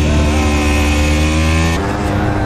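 Marc Marquez's MotoGP motorcycle crossing the finish line in a stand-up wheelie at Sepang, Malaysia, 2018, a loud, close, high-pitched engine scream held steady, then dropping in pitch as it passes.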